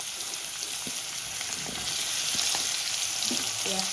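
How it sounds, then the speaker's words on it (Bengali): Onion frying in hot oil for a Bengali fish curry sizzles steadily up close, with scattered scraping and clinking as it is stirred around the pan. "পেঁয়াজটা দিয়ে একটু নাড়াচাড়া করে দেবো।"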